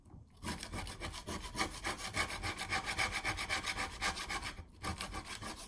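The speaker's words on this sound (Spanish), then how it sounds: "Y esto os va a ayudar mucho a la hora de rascar con el destornillador" A screwdriver scrapes glue off the sponge bar of a Knitmaster knitting machine, making a steady, rhythmic rasping of fast back-and-forth strokes, close and continuous, with short pauses at the start and near the end.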